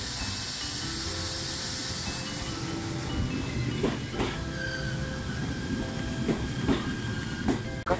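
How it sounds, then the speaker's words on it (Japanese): Shinano Railway SR1 series train sitting in a depot yard during shunting, with a steady hiss of released air and a few sharp clanks and knocks over a constant low rumble. "エアーが抜けた音がしますけど、"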